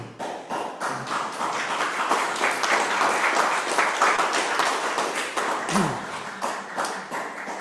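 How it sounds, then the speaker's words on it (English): A festival audience applauds a poet at a winter reading: sustained, full clapping from many hands in a room, steady and fairly loud throughout with a few louder individual claps. "So can we have a big round of applause, please, for..."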